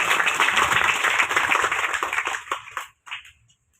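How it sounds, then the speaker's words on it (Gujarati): Audience applause for Amitbhai at a tree-planting event in Manpur village, a broad wash of clapping from a crowd that fades out near the end, with a brief final burst. "અમિતભાઈ માટે ફરીવાર જોરદાર તાળીઓ થઈ જાય"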